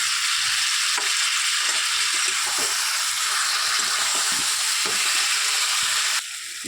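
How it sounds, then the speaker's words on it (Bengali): Fried tomato sizzles in a pan with a little water and sugar for a duck egg curry, a loud, continuous hiss, a few soft scrapes breaking through, before the sound drops slightly at the end. "এবং টমেটো ভাজাটা দিয়ে দেবো"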